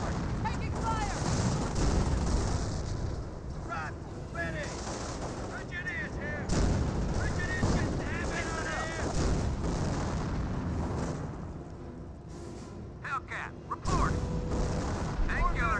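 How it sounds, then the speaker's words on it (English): In the game Company of Heroes, a Panther tank fires at riflemen amid dense battle noise, with heavy booms, rattling gunfire and explosions under continuous talk. "Panther's now going to take some pot shot on the rifleman."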